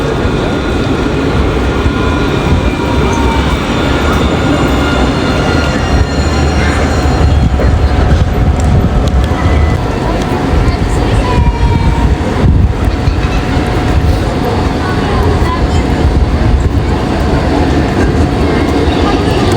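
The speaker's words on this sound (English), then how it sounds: "Alright, so we've got this tram coming in here." A carbon-neutral Nottingham tram pulls in along the street, a steady loud rumble of wheels on rail with faint squeals and clicks, continuous throughout with no talking.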